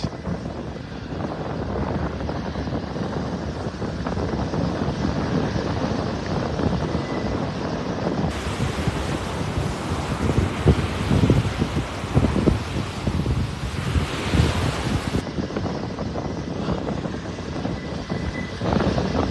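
Strong wind roars continuously across an open beach in North Naples, Florida, gusting louder in the middle, a broad rushing noise with no voices.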